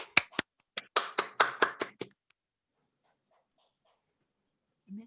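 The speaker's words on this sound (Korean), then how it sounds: "큰 박수로 김유진 사장님의 강의부터 시작하겠습니다" About eight separate hand claps come from a small group at the start of a business lecture meeting in quick succession over two seconds, then near silence with a faint thump at the end.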